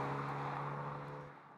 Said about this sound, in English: Now this car is a standard Mini John Cooper Works exhaust